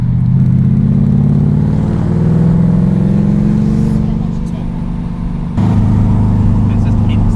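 A Ford Capri with a swapped Mercedes M113 5-litre V8 accelerating close by, a loud rising engine note that eases briefly then returns strongly, with people talking over it.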